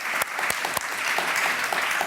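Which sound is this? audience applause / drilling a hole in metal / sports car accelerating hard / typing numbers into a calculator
audience applause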